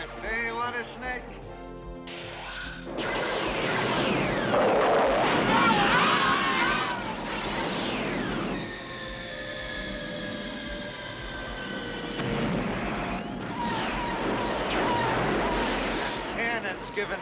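Cannon fire in a battle scene from the 1985 animated film Starchaser: The Legend of Orin, with loud sustained blasts, roaring rumble and whining sweeps under shouted voices and dramatic soundtrack.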